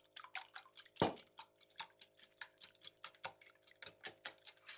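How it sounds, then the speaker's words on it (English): Eight eggs being whisked in a bowl for a Jamaican sorrel fruit cake, a steady run of quick light clicks and taps, close and fairly quiet, with one sharper knock near the start. "Just whisking up the eggs first before I pour it in there"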